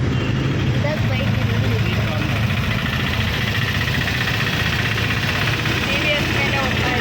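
A TVS motorbike engine heard from close by on the road near Pandavapura in Karnataka, a steady, unbroken mid-pitched drone with constant vibration throughout and no clear changes in speed.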